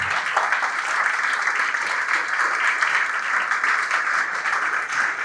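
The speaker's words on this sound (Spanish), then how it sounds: "Dele fuerte palmas al Señor." A church congregation applauds loudly and steadily during a worship service, a dense wash of clapping from many hands sustained for several seconds without a break.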